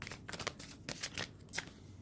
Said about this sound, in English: These cards keep flip-flopping around in my hands, making it very difficult to shuffle